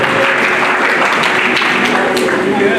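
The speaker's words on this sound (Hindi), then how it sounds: "इस बार उनके लिए जोरदार तालियां आप सभी" A dense, steady burst of audience clapping at a school dance event fills the whole stretch, loud and continuous with no pauses.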